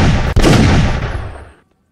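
A single loud gunshot in a custom zombies horror video game, a sharp blast at the start followed by a booming burst that decays over about a second into silence.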